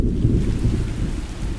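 Steady rain pours down with deep rolling thunder rumbling underneath, a dense, loud low roar that continues without a break.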